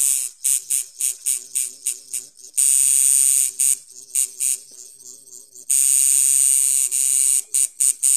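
A long-stroke tattoo liner machine with a long armature bar and a 3 to 4 millimeter stroke, running at 5.5 volts, buzzes in loud, close bursts. Short rapid pulses alternate with longer sustained runs, and quiet gaps separate them.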